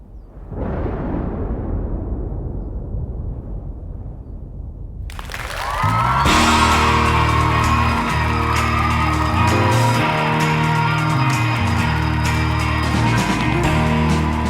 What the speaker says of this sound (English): As the crowd went crazy, Martin Luther King, exhausted, having spoke